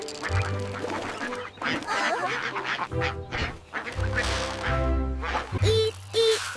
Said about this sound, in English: Quack, quack. Dinner time.